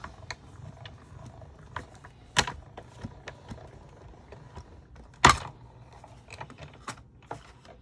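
A hand-cranked die-cutting machine rolls a layered paper card craft through its plates, giving soft, faint ratcheting clicks and gear ticks with two sharper louder clacks along the way.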